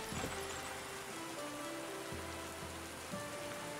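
Steady rain pattering in the medieval smithing game Anvil Saga, a soft continuous hiss with faint musical tones and occasional low thumps underneath.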